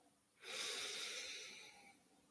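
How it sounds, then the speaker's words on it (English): A deep inhale taken during a guided breathing exercise at a morning satsang, a single broad airy breath that swells quickly, holds steady and fades over about two seconds, close to the mic with no talk. "Before we begin, we'll take a nice inhale together."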